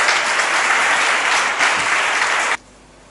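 A church congregation applauds Jesus, dense sustained clapping filling the room for about two and a half seconds before cutting off abruptly into quiet.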